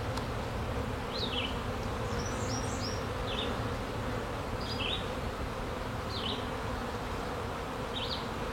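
Honeybees buzz steadily around an opened hive during an inspection, a dense close hum with brief higher passes of single bees flying near, and no talking.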